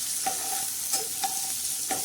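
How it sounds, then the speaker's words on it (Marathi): Onions and tomatoes sizzle in a hot tempering while a spoon stirs and scrapes through them in a few quick, evenly spaced strokes, with no voices. "तर आता हे याला बी तडका बसला पाहिजे आणि छान असं हलवून घेणार"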